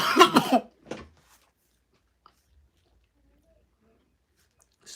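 A couple of short, rough smoker's coughs close by at the start, then near silence with faint rustling.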